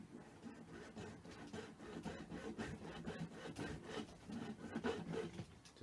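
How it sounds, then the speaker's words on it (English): Junior hacksaw cutting through a pen cylinder, quiet close-up rasping strokes in an uneven back-and-forth rhythm, with no voices. "And then I'm going to use a junior hacksaw to cut through the pen cylinder."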